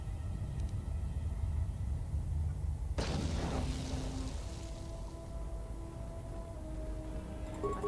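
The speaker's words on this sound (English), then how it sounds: "Throw a grenade at you." A loud explosion from a grenade in the video game Star Wars Knights of the Old Republic II bursts out partway through, set against steady game background noise and followed by lingering tonal effects.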